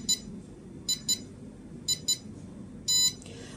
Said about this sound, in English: In the countdown 10 seconds, it beeps twice every 1 second.